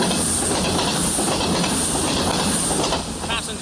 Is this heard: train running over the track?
yes